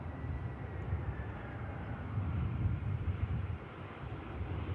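EasyJet airliner taxiing at Manchester Airport, a steady low jet engine rumble heard from a distance, continuous and fairly even, with no voices over it.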